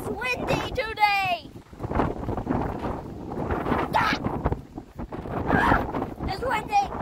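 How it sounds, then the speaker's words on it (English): Strong wind gusting outdoors near water during a hydro dipping session, a steady broadband rush with loud buffeting against the microphone throughout, while people talk over it. "And if you didn't realize, it's windy today."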